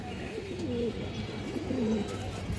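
Mushaldam pigeons, a fresh old-breed bird with black body and white tail, coo in a few soft low rolling phrases, fairly close over steady background noise.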